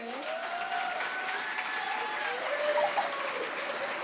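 Audience applause at a youth community event, steady clapping throughout with a whistling tone and scattered voices over it.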